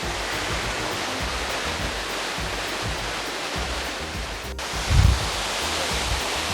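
Steady broadband rush of a waterfall in Lenggong, Perak, Malaysia, a constant loud wash of falling water with a brief low thump near the end and no voices.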